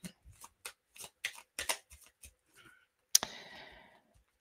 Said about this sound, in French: je vais tirer une petite carte, un petit message de l'oracle des anges.